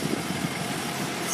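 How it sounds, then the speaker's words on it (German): An outdoor tractor engine gives a steady, moderately loud rumbling drone with no clear changes in pace, under a wide blanket of background noise. "Da, jetzt kommt erst der Traktor."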